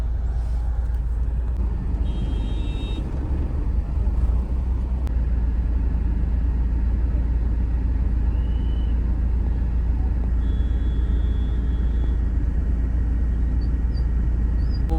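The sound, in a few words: road traffic with tractors near rally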